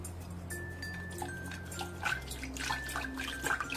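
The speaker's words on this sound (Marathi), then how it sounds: "आणि आता रवेने हलवून घेऊया." Curd and water are churned into buttermilk with a wooden churner, producing close, irregular sloshing and splashing that swells in bursts, with no talking over it.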